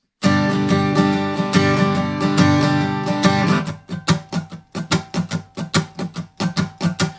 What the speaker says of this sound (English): to strum it, it'll sound like this